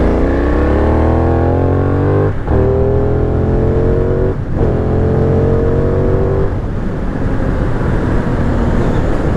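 Benelli 752S motorcycle engine accelerating hard through a corner, a loud continuous roar with steady rising pitch broken by two brief gear-shift dips, close and alone with no talk.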